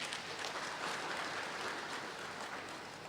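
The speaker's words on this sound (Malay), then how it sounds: "Kita tepuk tangan kat Rimau sikit." An audience claps together at a Kedah land grant ceremony in Padang Terap, a steady, moderately distant wash of applause lasting the whole moment without talk.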